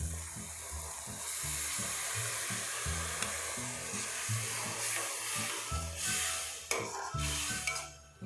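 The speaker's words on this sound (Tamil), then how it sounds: "ஏற்கனவே வேக வச்சுருக்கிற நல்லியில் உள்ள தண்ணியை அதில் ஊற்றி கொதிக்க விடும்." Mutton bone broth is poured into a simmering masala gravy for nalli elumbu, giving a steady close hiss and bubbling boil with a rhythmic low churning throughout, no voices.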